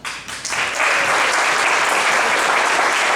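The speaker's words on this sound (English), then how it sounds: "Please hold the applause." Sustained applause from a crowd at a county executive candidate forum, swelling quickly after a brief lull and holding steady and loud as a dense wash of clapping.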